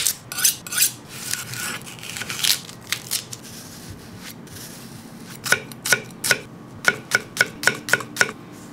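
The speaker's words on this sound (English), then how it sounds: "I need to cut up my shallots" Chef's knife chopping shallots on a cutting board: quick, crisp, close strikes in two bursts separated by a brief pause, the second burst more evenly rhythmic.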